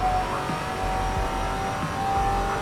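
Race cars rev and accelerate in a simulated AI racing league at Spa's Eau Rouge, a steady engine drone with rising and falling pitch, moderately loud, with no talking.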